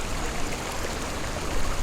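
Water streams and trickles steadily around a character standing in a stream in the video game Conan Exiles, a continuous broadband rushing with no talk over it.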